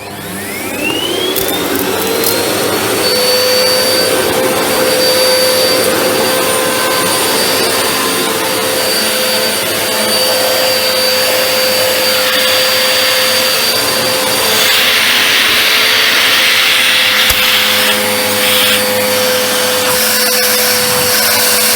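A Vax Power VX2 upright vacuum cleaner powering up indoors, its motor whine climbing quickly to a loud, steady high-pitched drone that holds close and continuous for about twenty seconds.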